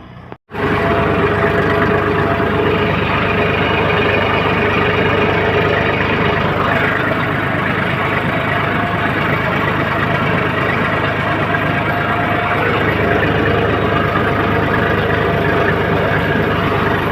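Tractor pulling a rotavator through a field for a chickpea crop, a steady loud engine drone running continuously for the whole stretch after a brief start, with no voices.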